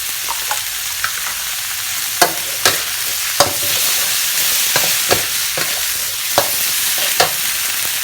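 Red curry paste with dried and fresh chilies stir-fried for a spicy chicken stir-fry with cumin leaves, a steady sizzle under repeated scrapes and clacks of a spatula against the pan at an uneven rhythm, close and alone.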